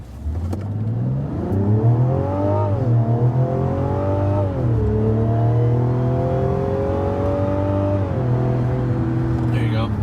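Mazda CX-90 inline-six engine revving hard, a strong harmonic drone climbing and dropping in pitch across several throttle blips, loud and close with no talking over it.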